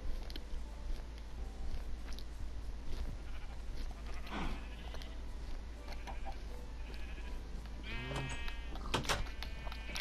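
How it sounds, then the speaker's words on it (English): Minecraft sheep bleat in a short cluster near the end, over steady low game background hum with no talk. "Wow, the sheep like"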